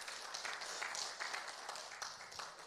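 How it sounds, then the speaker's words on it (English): A church congregation claps for joy during a sermon, a dense, continuous wash of many hands that sounds distant and faint, steady throughout without a voice on top. "Somebody clap for joy and thank God on that."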